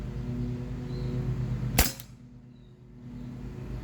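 A single sharp crack from a .43 caliber paintball gun, its paintballs kept a week in a freezer, fired once at close range against a steady low hum, then quiet.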